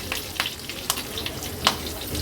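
Cumin seeds, mustard seeds, curry leaves and asafoetida sizzle in hot oil for a tempering, a close crackling fry with sharp pops scattered through it, no talking.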